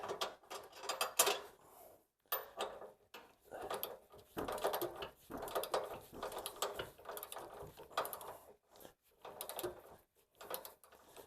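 Ratchet wrench clicking while torquing a ball joint bolt on a W163 Mercedes to 110 foot-pounds, bursts of quick mechanical clicks separated by short pauses, close and fairly quiet.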